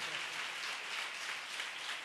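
Church congregation clapping hands together in a dense, continuous wash of applause, steady and fairly loud throughout with no distinct individual claps standing out.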